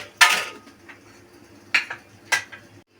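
Metal cooking pan lifted off a stove while making shahi tukray dessert, giving three separate clanks and scrapes, one louder near the start and two softer ones close together later, against a quiet kitchen background.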